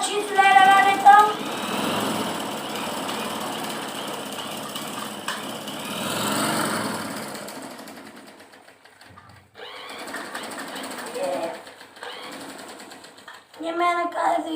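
Sewing machine stitching at home, a close mechanical whirring run that pauses and restarts in stretches, with voices talking over it.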